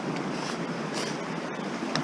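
A mountain stream rushes beside a forest trail in the Alps, a steady dense broadband wash of flowing water, close and fairly loud with no speech.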